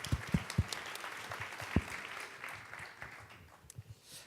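Brief, faint applause breaks out from a conference audience for a speaker, a few sharp claps at first and then a thinning patter that tails off quietly.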